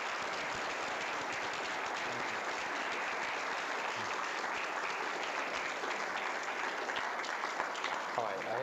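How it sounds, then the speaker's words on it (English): An audience claps steadily throughout, a dense, sustained round of applause with no break, fairly loud and close. "Give a nice round of applause for our guests here."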